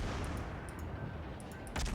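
Destroyer gunfire in World of Warships from a Gearing, a steady, heavy roar of loud cannon blasts that ends in a sharper burst, with no talking.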